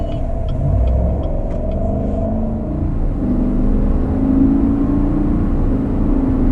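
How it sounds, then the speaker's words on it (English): A 2019 GMC Sierra Denali pickup accelerates through its gears, heard from inside as a steady, close engine rumble and road whir with pitch shifts as it climbs, no talk over it. "Yep, going through those gears."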